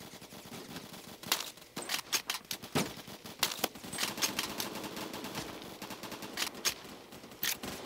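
Automatic and single gunshots from the Roblox shooter Phantom Forces ring out in irregular bursts and clustered volleys, fairly loud and crisp, with no talk over them.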